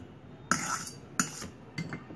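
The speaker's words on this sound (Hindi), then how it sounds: "बोल में डालते हैं बटर। आइसिंग शुगर थोड़ा थोड़ा करके डालेंगे" A spoon clinks against a mixing bowl three times as icing sugar goes into butter, each tap short and bright with quiet pauses between.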